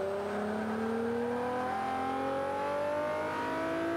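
Mitsubishi EVO 6 engine in the racing game Forza 5, a continuous loud revving whine that rises steadily in pitch as the car accelerates, alone with no speech.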